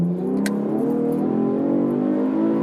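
Engine of a modified 2013 Chevrolet Camaro V6 revving steadily under paddle shifting, a continuous close, loud drone with rising pitch, with no talk.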